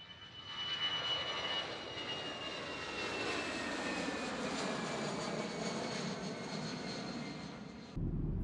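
A steady roar of jet engines fills an Emirates airliner cabin in flight, a loud continuous drone with a faint whine that cuts off abruptly near the end.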